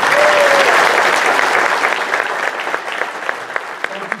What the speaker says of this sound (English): let's give Susan Lohman a round of applause.